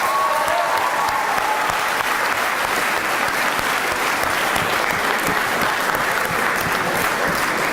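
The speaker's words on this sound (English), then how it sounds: "Give him another round of applause, guys." A large crowd at a 2019 high school graduation claps for a student speaker, a loud, unbroken roar of applause that holds steady throughout, with scattered crowd noise mixed in.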